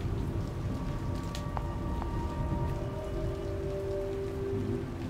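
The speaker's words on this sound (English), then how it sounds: "I always like it when it rains." Steady rain pours in a dark scene from the video game The Evil Within, a continuous even hiss of drops on surfaces with faint tonal hum beneath and a couple of brief clicks, no voices.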